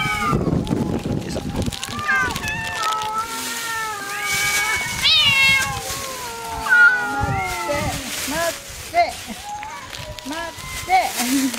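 Several cats on Aoshima cat island, Japan, meow and wail in overlapping, drawn-out calls, some rising and falling, close by, with a person speaking underneath.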